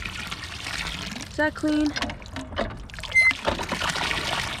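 Water gushing and trickling from a found outdoor hand pump near a cemetery, in irregular splashing bursts; a person talks over it.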